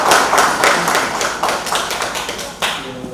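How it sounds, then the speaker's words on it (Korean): A small group at a committee meeting claps unevenly, individual hand claps standing out in a loose, fading burst of applause indoors. "박수."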